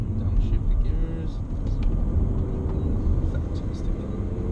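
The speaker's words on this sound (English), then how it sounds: "Boom, downshift the gears." Engine of a 2018 Honda Civic 1.5 Turbo rising and falling as it downshifts, a steady low rumbling drone from inside the moving car, fairly loud and continuous with no speech.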